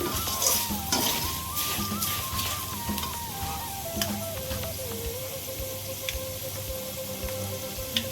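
A spicy puffed rice mixture with garlic fries steadily in a pan, a continuous close sizzle with small crackles and a faint tonal whine underneath.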